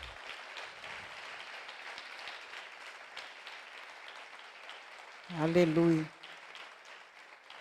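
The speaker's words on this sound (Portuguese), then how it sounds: "As palmas louvam e engrandecem o nome do Senhor" A congregation at a family worship service claps softly and continuously throughout, with one voice briefly calling out loudly over the clapping partway through.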